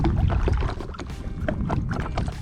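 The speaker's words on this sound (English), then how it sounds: "now we can paddle" A boat being paddled on chilly open water, rhythmic splashing paddle strokes close to the microphone with wind buffeting in the background.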